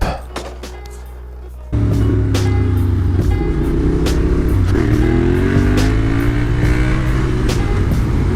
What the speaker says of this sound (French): mais cette moto, elle est trop bien.